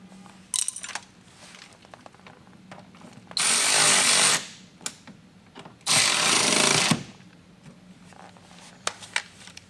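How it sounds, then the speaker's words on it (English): A power tool drives in mud flap screws on a 2022 Rivian R1T, in two loud, sustained whirring bursts about a second long each, separated by quiet handling and small clicks. "we're going to go ahead and fully tighten down all of our screws"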